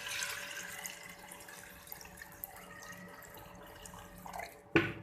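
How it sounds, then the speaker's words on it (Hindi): Water is poured into washed lentils for chicken haleem, a soft, steady trickle and splash heard alone at close range, ending with a brief louder splash. "अब मैं इसके अंदर इसमें पानी डाल दूँगी।"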